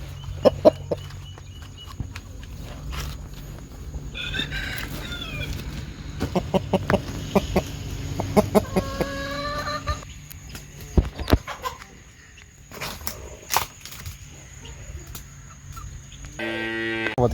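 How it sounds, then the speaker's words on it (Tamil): A rooster held and lifted for vaccination gives several short clucks and squawks amid handling noise and rustling, with a few brief distressed calls near the end. "இப்போ நான் நம்பர் வந்து நம்ம ஊசி வேக்சின் போட போகிற சேவல் வந்து எடுக்கிறாரு"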